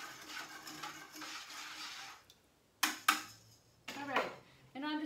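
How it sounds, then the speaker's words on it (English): Pottery glaze stirred in a container, a soft wet swirling that gives way to a few sharp clinks and scrapes against the sides, close and fairly quiet. "So again, I'm going to stir my glaze"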